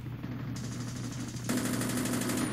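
Pistol gunfire in Call of Duty, a fast, steady rattle of shots over a continuous low game rumble, getting louder and denser halfway through, with no talking.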